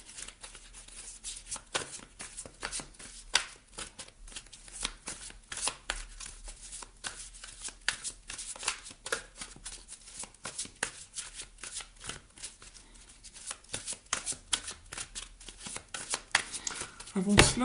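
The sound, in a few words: shuffling tarot cards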